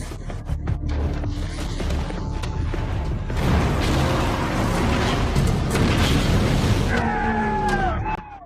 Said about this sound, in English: At that moment, Dreadnought hits the trap and explodes.